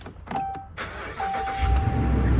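A flooded 2020 Ford F-150 cranks and its engine catches, a short starter whir and chime tone followed by the engine settling into a loud, steady running rumble up close.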